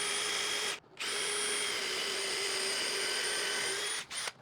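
A power drill with a 5/16 brad point bit whines steadily at close range while drilling a cornhole board, pausing briefly once early on and stopping near the end with a short restart.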